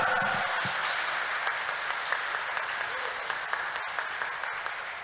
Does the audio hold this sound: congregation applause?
yes